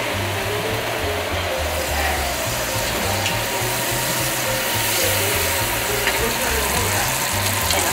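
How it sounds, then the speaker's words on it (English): Butter going into hot caramel, a steady hissing sizzle that holds for several seconds, close and continuous with no talking. "Add some butter."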